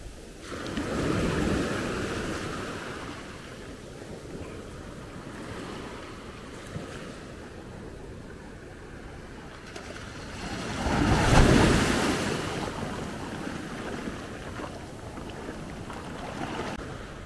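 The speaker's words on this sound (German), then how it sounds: "Seht euch das an, wie ruhig das Meer ist heute." Calm sea waves wash gently onto the shore at Maspalomas, Gran Canaria, a soft low surf that swells a couple of times, with wind buffeting the microphone and no one speaking.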